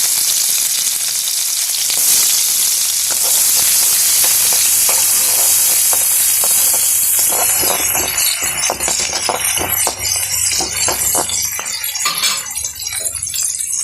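Chopped small onions (shallots) sizzle and crackle loudly in hot oil with fennel seeds, with occasional clinks of a utensil stirring the pan.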